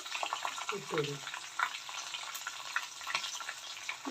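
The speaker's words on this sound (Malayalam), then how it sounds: "അതിനുശേഷം നമുക്ക് പച്ചമുളക് ഇട്ട് കൊടുക്കാം ഫ്ലെയിം ഒന്ന് ലോ ആക്കി വെക്കണം" Green chillies frying in a pan over low flame while making Tamil Nadu style ven pongal, a steady close sizzle with occasional stirring scrapes throughout.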